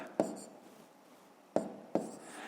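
Someone writes numbers on paper during a fifth-grade math exercise, making faint close taps and scratches: one stroke near the start and two more a little later, over quiet room tone.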